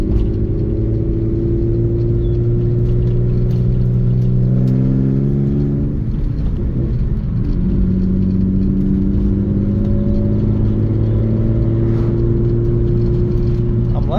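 A BMW E46 fitted with a PMC short shifter accelerates hard, its loud, close engine rising in pitch, dropping at each gear change and then climbing again without a break.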